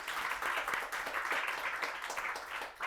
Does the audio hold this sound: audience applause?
yes